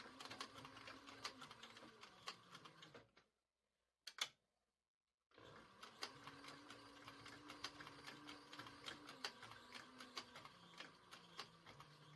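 Leather holster being stitched on a sewing machine, a steady rapid needle clatter running loud and close, cutting out for about two seconds with a brief knock in the gap before the stitching resumes.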